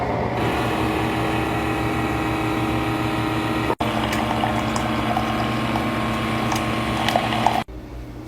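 A Keurig coffee machine pumps out hot water with a steady mechanical whir and hum that runs for several seconds, stopping briefly once before ending near the close.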